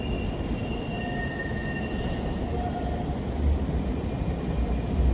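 A train in San Diego rumbles steadily close by, with faint high wheel squeals drifting over the noise as it rolls in, no voices.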